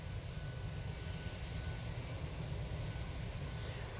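A loud, steady roar from an aircraft engine at Manchester Airport, a broad continuous rumble that holds through with no talk.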